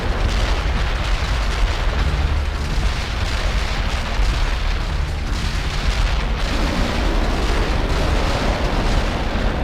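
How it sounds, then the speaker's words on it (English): Artillery barrage thunders across a World in Conflict battlefield, a dense continuous rumble of overlapping explosions and booms, loud and unbroken from start to finish with no voices. "Artillery barrage inbound."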